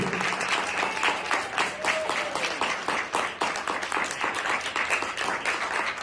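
Continuous applause from an audience at a nutrition lecture, many people clapping in a thick, steady wash that holds at an even, fairly loud level for about six seconds.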